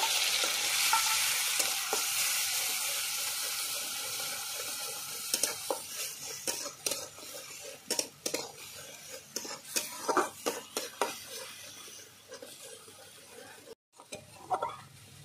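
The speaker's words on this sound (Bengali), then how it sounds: "পেঁয়াজটা ভালো করে আমি একটু আগে ভেজে নেব।" Ground paste of a large onion fries in hot oil in a pan with black cumin, for a prawn malai curry, giving a loud steady sizzle that later breaks into close spatula scrapes and stirs, with no talking.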